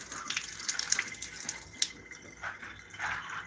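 Water splashing and running from an outdoor tap in freezing cold, a steady wet hiss with brief brighter spatters, close and alone.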